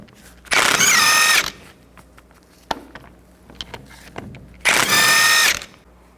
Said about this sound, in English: Take these bolts out, use a 19mm socket.